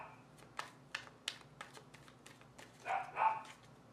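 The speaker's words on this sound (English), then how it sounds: "I swear I can't do one video without them barking." Dogs bark in a series of sharp, spaced yips at the start, followed by a couple of louder, longer barks near the end, all fairly close and with no talking.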